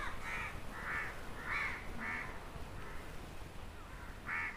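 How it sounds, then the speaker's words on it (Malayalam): A crow caws repeatedly in a home yard where chickens are kept, about eight harsh calls in an uneven rhythm at moderate distance, faint against quiet background noise. "ഇത്ര നേരം ഈ കാക്കച്ചി എവിടെയാവും?"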